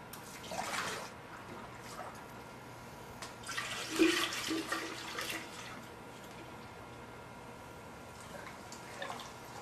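Homemade kombucha tea, brewed from water, sugar and tea bags, pours into a container with a steady watery rush and splash, swelling briefly midway and then settling into a softer trickle.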